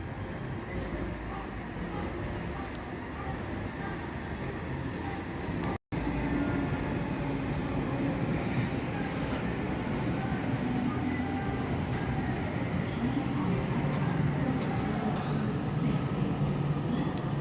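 Sydney Trains M set, car M7, arriving at a Granville platform at night gives a steady mid-level rumble, broken by a brief dropout near six seconds, then continuing evenly.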